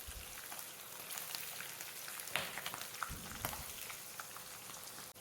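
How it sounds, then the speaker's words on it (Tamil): Green chillies and broken dried red chillies sautéing in hot oil for lemon rice, a steady close crackling sizzle with a few sharper pops and spatters and no talk. "இது கூட 4 பச்சை மிளகாய் சேர்த்து வதக்கி விடுங்க"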